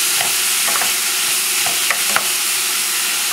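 Vegetables and bay leaves cooking slowly in a pan for brown rice with lentils, giving a loud, even, close sizzle with a few soft stirring ticks and no talking.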